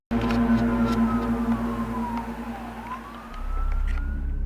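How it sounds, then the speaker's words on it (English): A mysterious, very loud bass-heavy horn fills the sky over an apartment: a sustained droning tone with a slowly falling then rising pitch, low rumble swelling near the end, no voices. "a man hears an insanely loud sound which can only be described as some sort of bass-heavy horn filling the entire sky outside of his apartment"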